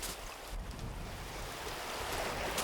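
Strong sea waves surge against the rocks at Daewangam off the Silla coast, a continuous, roaring wash of surf with wind noise and no talk.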